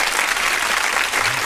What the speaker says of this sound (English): we got to give her a hand clap